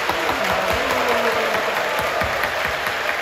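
Enthusiastic applause from the congregation of Incheon Full Gospel Church for middle and high school students at a New Year's Eve service, a dense, continuous wash of clapping that stays loud and steady throughout.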